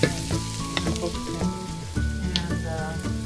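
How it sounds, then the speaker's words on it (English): Onions with black pepper sizzle and crackle steadily in a hot pan, a continuous frying hiss with occasional utensil clinks, close by. "the onions, they are sizzling really nicely"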